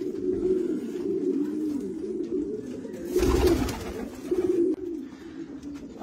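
Racing pigeons coo in low, throaty, rolling calls that repeat steadily, close by, with a brief burst of rustling or fluttering partway through.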